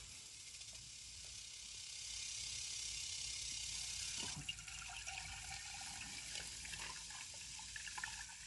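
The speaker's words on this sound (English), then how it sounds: "I'm just going to cover this with water." Water is poured into a jar holding sumac berries for a homemade lemonade, giving a soft, continuous rushing trickle with faint clinks against the glass, recorded close and quiet.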